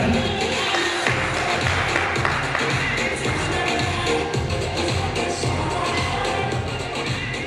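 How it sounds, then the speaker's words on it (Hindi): An audience claps and cheers at a company's first anniversary event, a dense, steady wash of applause that runs unbroken and loud throughout. "एक बार फिर तालियां"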